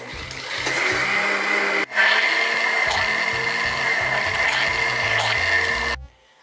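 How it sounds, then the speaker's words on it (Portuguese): A kitchen blender whirs loudly, mixing a quick dessert with cream. The motor runs steadily, cuts out briefly once, restarts and then stops. "Vamos bater no liquidificador até você perceber que misturou bem."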